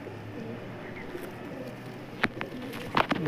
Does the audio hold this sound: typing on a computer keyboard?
no